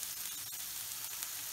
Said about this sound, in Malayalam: നമുക്ക് ഈ സവാള നന്നായി എന്താ പറയുക വഴന്ന് വരുന്നവരെ ഒന്ന് വെയിറ്റ് ചെയ്യാം